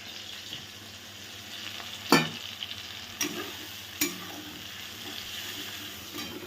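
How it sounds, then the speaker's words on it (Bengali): Spice paste sizzles in a pan with fried onion, garlic, tomato and curry leaves, a steady close frying hiss broken by a few sharp scraping stirs of the utensil. "মশলাটা আমার খুব ভালো করে কষানো হয়ে গেছে।"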